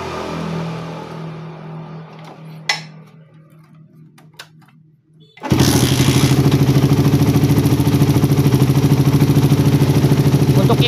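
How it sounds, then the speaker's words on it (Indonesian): A motorcycle engine fitted with a PWK carburetor starts up after a few seconds of near silence with faint clicks, then runs loud and steady, close by, with a busy rapid exhaust pulse through to the end. "saya mau cek sound dulu. Kita lihat seberapa bagus idlenya, kemudian bukaan gas sedikit"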